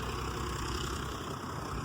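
A vehicle engine idles in a village setting, a steady low rumble with a constant hum that stays level and close throughout, no voices over it.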